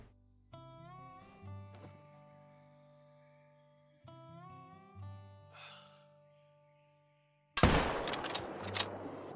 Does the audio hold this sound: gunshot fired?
yes